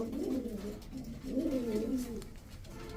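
Pigeons of fancy breeds, kept for sale, give soft low rolling coos in repeated swelling phrases, fairly close and clear, with a brief bump of handling noise at the very end.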